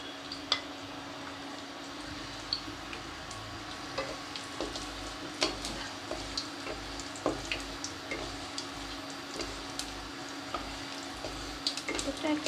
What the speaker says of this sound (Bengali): এই যে 5 ফোড়নটা দিয়ে দিচ্ছি, শুকনো লঙ্কাগুলো দিলাম, তেজপাতা